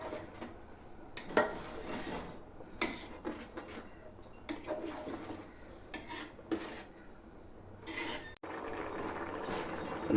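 Chicken biryani rice boiling in water in a pot, stirred lightly with a ladle: irregular scraping and clinking strokes against the pot over a soft bubbling background, fairly quiet and close.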